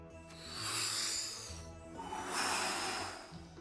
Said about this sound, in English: Step one, breathe.